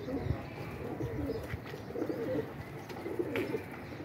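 Pigeons coo softly in low, murmuring calls amid steady outdoor background noise, with a few faint chirps.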